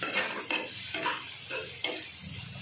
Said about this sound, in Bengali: জিরের গুঁড়ো, আর হলুদ এই দিয়ে এটাকে একটু কষে নেব।